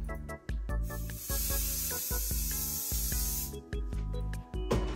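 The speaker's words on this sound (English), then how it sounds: "I do an extremely quick spray of hairspray." A single extremely quick burst of hairspray from an aerosol can, a short bright hiss lasting a couple of seconds, close to the mic, set against a rhythmic background beat.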